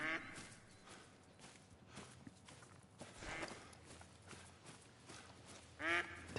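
Mallard ducks quack in a hunting video game, with several soft, scattered calls over a rustling outdoor ambience and a louder burst of quacks near the end.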